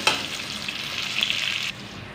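Onions frying in a pan for chicken gravy salan, a steady close hiss and crackle of sizzling oil that fades out near the end, no talking.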